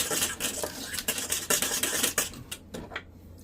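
A utensil stirring a béchamel sauce for potatoes au gratin, seasoned with salt and black pepper: rapid close clinks and scrapes against a pot for a few seconds before tapering off into quiet.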